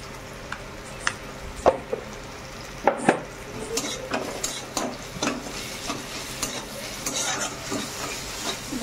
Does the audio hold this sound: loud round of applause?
no